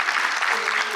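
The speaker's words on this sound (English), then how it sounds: "please join me in thanking Audra for being here tonight" Audience applause after a talk at a civic evening event, steady and dense for about a second, with a faint voice under the clapping.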